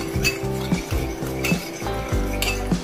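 A metal spoon stirring food colour into chicken dum biryani in a pot makes repeated close clinks and scrapes against the pot in a steady rhythm, with no voices.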